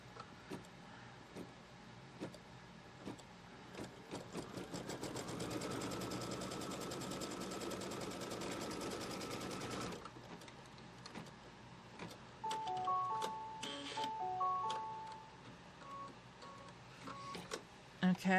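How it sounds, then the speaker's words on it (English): An embroidery machine stitches a straight tack-down line across quilt fabric in a hoop, a rapid close mechanical whir that runs steadily for several seconds, then stops and gives way to softer clicks and beeps. "I'm going to tack down this fabric using a stitch line from left to right."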